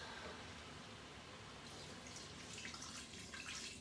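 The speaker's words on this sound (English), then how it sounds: "Now I'm going to add the broth." Broth is poured steadily into a quick cooker pot holding chicken, giving a faint, continuous liquid splash and trickle close by.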